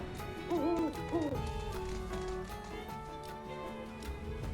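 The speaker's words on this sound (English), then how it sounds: "Owl's going the other way." Owl hooting in Final Fantasy Rebirth, two quick wavering hoots near the start over a steady game ambience with music, fairly clear but not loud.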